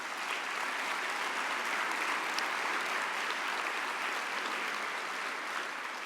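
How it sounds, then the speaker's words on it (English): A conference audience at an address by a charity's chief executive breaks into steady, sustained applause, the dense clapping of a large room holding at an even level throughout. "I want you to stand up and take a round of applause for the wonderful,"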